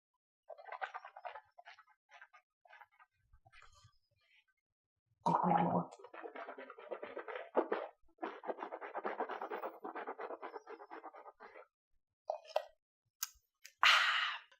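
Bubble gum flavoured mouthwash is swished and gargled in the mouth in several bursts of wet, bubbly sloshing separated by pauses, close and fairly quiet, ending with louder gargles.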